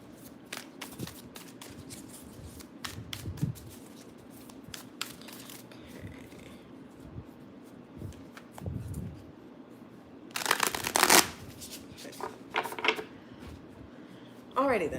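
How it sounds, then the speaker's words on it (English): Tarot cards are shuffled in several short riffling bursts, crisp papery flutters with quiet pauses between, fairly close. "Let me go ahead and shuffle these."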